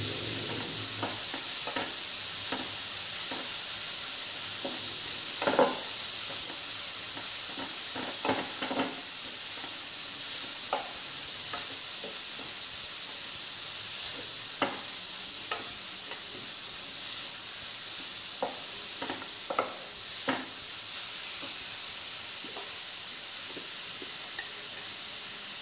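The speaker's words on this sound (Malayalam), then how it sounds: "എന്നിട്ട് അതെല്ലാം കൂടെ കൂട്ടിയിട്ട് ഒന്നും കൂടെ നന്നായിട്ട് ഒന്ന് മിക്സ് ചെയ്തെടുക്കാം" Grated carrot mixture is stirred in a hot pan under a constant soft sizzle, with irregular scrapes and taps of the spoon against the pan recurring throughout, close and unhurried, with no voices.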